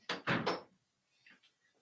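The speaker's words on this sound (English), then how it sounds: "Just give me 1 second to close the door." Indoors, a door is pushed shut with a short burst of loud thumping and rattling, then a couple of faint knocks fade to quiet.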